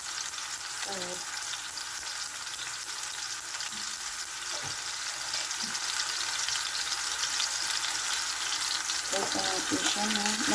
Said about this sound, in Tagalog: I-prito muna natin ang ating